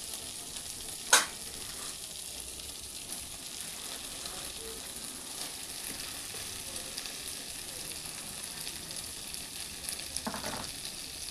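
Cabbage and potatoes fry with spices in a pan, giving a faint steady sizzle with one sharp clatter near the start and a soft stirring scrape near the end, with no talking.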